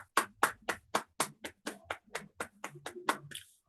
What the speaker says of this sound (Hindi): मेरी आदरणीय महागुरुओं के लिए एक जोरदार तालियां चाहूंगी